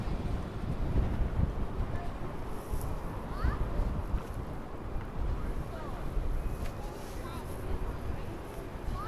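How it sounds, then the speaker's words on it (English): Strong gusty wind buffets the microphone on the Blackpool seafront, a continuous low roaring rumble that stays loud and unbroken throughout, with faint background sounds beneath. "Oh, goodness, it's blowy."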